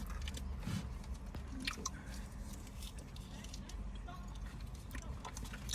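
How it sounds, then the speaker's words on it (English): Chewy apple-flavoured sweets being chewed close to the mic, soft wet squishing and smacking bites repeating irregularly over a quiet background. "To the sound of chewing."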